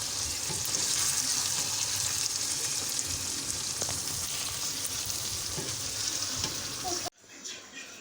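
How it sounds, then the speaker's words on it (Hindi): Mixed vegetables frying in a pan make a dense, continuous crackling sizzle, close and fairly loud, with occasional stirring clicks, before dropping suddenly to a quieter, muffled tail. "हम इसको अच्छे से फ्राई करेंगे"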